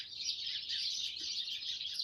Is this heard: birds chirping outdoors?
yes